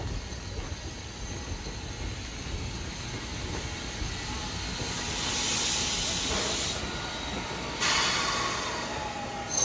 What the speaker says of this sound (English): Locomotive made it up to Sennol.